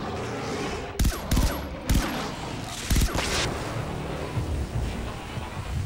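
Sharp gunshots ring out in Far Cry 3: Blood Dragon, a handful of loud cracks in quick, irregular bursts over a steady, windy background rush.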